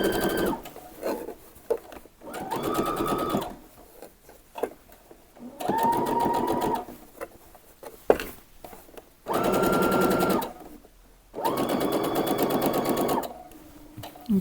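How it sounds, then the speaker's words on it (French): Sewing machine stitching a neckline seam on a garment, running in several steady bursts of fast rhythmic whirring with short pauses between, close and loud with no talk. "Là, c'est pas la peine d'aller vite parce qu'il faut faire une jolie couture."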